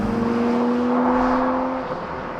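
A Porsche Boxster Spyder's engine gives a muscular, steady drone with a humming, whirring tone, loud and close. The note holds evenly for a couple of seconds, then eases slightly toward the end.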